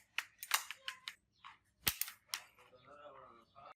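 A homemade pocket shot slingshot fires at a glass bottle of colored liquid: several sharp snapping shots in quick succession, one hard crack, then a softer scattered rattle and tinkle of breaking glass trailing off.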